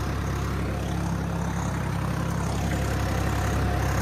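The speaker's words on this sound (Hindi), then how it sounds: "बहुत अच्छी गहराई से ट्रैक्टर जोत रहा है खेत को" Swaraj 855 4x4 tractor engine pulling an 11-tine cultivator through a field, a steady, continuous low diesel drone with a constant hum throughout, close and loud, no voices.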